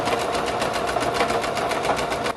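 A sewing machine runs steadily for a couple of seconds, edge stitching around the binding on a knit romper, with a loud, continuous whirring hum and rapid needle rhythm before a brief pause at the end.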